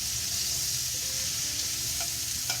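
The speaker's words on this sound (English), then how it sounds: "I'm just going to stir it here to make sure that the squash gets" Butternut squash frying in oil gives a constant close sizzle while a utensil stirs through it, with a couple of light scraping knocks near the end.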